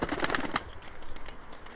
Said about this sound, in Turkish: bir güvercin bu arkadaşlar.